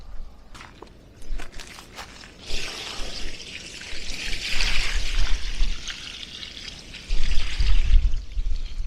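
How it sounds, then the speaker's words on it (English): Water poured onto a plant to give it a good soak, a steady splashing pour with rustling and a few soft footsteps, louder surges near the end, with no talking. "now I'm going to give it a good soak of water"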